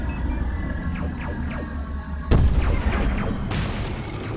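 Two heavy, booming spaceship cannon blasts in the game X-Wing, a few seconds apart, with softer whooshing shots sweeping past before them.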